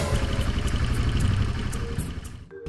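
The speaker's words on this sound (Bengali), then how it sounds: "রয়্যাল এনফিল্ডের শব্দ বাজছে" Royal Enfield motorcycle engine running steadily close by, a deep continuous thumping drone that holds level before dropping away briefly near the end.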